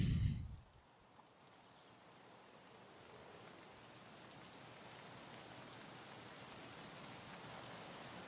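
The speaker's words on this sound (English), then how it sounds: "It's raining." Rain falls in the video game Let's Escape, a steady even hiss of drops that fades in after a brief louder sound at the start and holds constant, with no talking.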